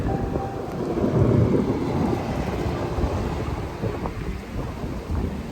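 A thunderstorm with steady heavy rain pours down throughout, its dense hiss joined by a low rolling rumble of thunder and some wind buffeting the microphone, with no talking.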